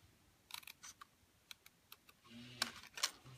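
Scissors snip through card stock in a handful of short, crisp clicks and cuts, close but quiet, spaced irregularly with a slightly busier rustle near the end.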